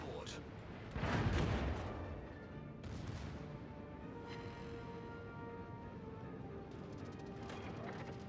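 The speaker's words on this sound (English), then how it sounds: "Hey, secondaries! Look at them fire!" Secondary guns of the battleship Sun Yat-Sen firing in a naval combat game, a heavy boom near the start followed by further sharp reports and a rumbling battle backdrop.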